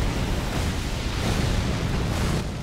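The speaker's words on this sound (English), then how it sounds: "Let's not get hit by that dumbass explosion." A large explosion in the video game Elden Ring, a loud sustained roaring blast filling the whole moment with dense rumbling noise, no voices over it.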